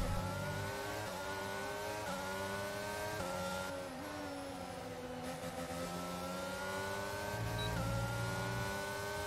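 An F1 race car engine in the F1 22 video game revs high and continuously, whining through a series of gear shifts and revving back up, with no voices.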